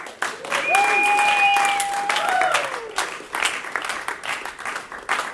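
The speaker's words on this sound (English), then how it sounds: "Another round of applause for Alyssa" Loud applause from an audience at a live comedy show in Providence, with a sharp whistle rising over the clapping early on before the clapping thins into scattered claps.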